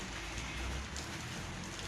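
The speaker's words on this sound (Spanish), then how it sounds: "La lluvia va a seguir, así que no nos preocupemos." Rain falls steadily in a dense, even hiss, constant and fairly close, with no voices.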